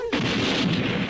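A grenade explosion in a children's kung fu action comedy, a loud broadband blast that hits abruptly and holds as a sustained rumbling roar for about a second.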